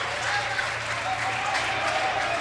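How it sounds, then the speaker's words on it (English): Sustained audience applause fills a racquetball championship arena after a rally-ending kill in a men's final, the clapping dense and steady with commentators talking underneath. "We give them our applause"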